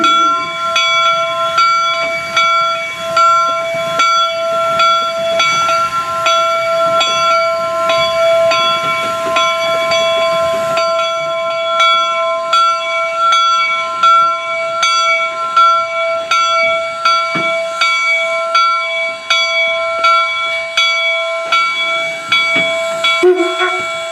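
A steady steam hiss from a steam locomotive runs throughout, with its bell ringing repeatedly on top at an even pace, loud and close, at Golden Spike National Historic Park.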